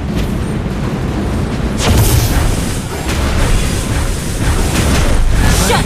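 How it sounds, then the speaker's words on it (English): Loud booming explosion sounds in a video game as a turret is destroyed, with deep rumbling bursts and blasts layered over a continuous dense battle din through the whole stretch. "Your team destroyed a turret!"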